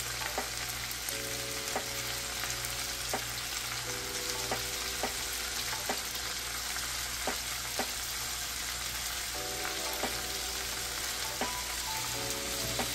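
Moringa chutney fries in oil with turmeric powder over medium heat, giving a steady, dense sizzle, while a spoon stirring the pan adds sharp knocks about once a second.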